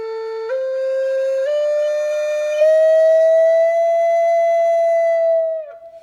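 Native American flute holds a clear, steady breathy tone, stepping up in pitch a few times with smooth finger rolls off the index hole, close and alone, before a short wavering fade.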